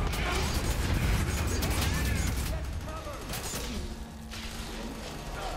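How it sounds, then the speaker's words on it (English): Gunfire in the shooter game F.E.A.R. 3 amid dense, loud game noise: continuous rattling bursts and crashes fill the mix, easing slightly toward the end. "Yeah, I'm just gonna shoot him in the leg."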